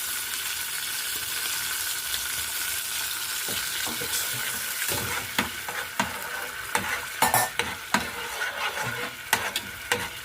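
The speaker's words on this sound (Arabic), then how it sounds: "وهنحط الخل اهو، نحط الخل يغلي شويه" Vinegar boils and sizzles in a pot with lamb for Egyptian fatteh, a steady hiss throughout. Sharper clinks and scrapes of stirring grow more frequent in the second half.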